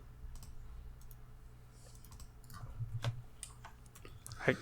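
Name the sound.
typing on a computer keyboard into a search bar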